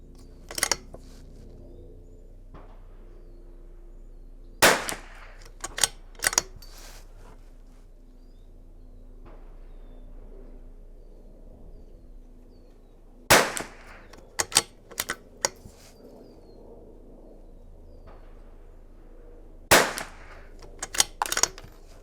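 A CZ .22 rifle fires CCI standard velocity rounds at an outdoor range, with sharp, loud cracks in three bursts of several quick shots separated by quiet pauses.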